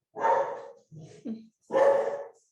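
A dog barking indoors while monkeys are on the roof: two long, loud barks with a short, softer yip between them, close and alone.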